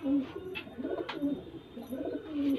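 Kalseere jaaldar pigeons coo softly and repeatedly close by, their low rolling calls coming in short phrases over faint background noise.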